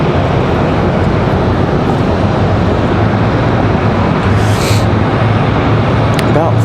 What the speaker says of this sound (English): This, I believe this is going to be our CRJ 900. Again, this one coming in from Washington, D.C. via a DCA.